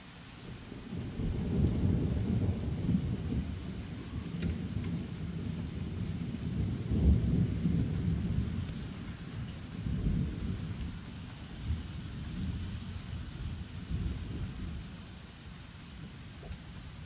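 Night thunderstorm with steady rain falling and rolling thunder, several low rumbles swelling and fading over the hiss of the downpour, with no voices.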